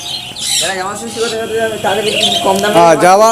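Several birds at a bird shop chirp, squawk and coo loudly and continuously, a busy overlapping chorus close by.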